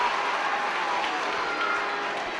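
Dense, steady crowd noise at a county senior hurling final, a broad wash of cheering and roaring that holds at an even level throughout without any single voice standing out.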